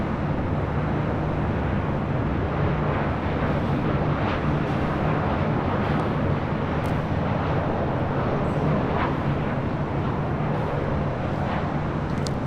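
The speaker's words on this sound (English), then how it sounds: "David Q, Qatar Cargo, flight 8105, heading to Chicago O'Hare. It's a 777 freighter, rolling down to 25 right." A Qatar Cargo Boeing 777 freighter rolling for takeoff on runway 25 right at Los Angeles International Airport, a loud, steady broadband jet roar that holds constant throughout.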